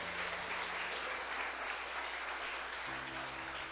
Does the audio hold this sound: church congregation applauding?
yes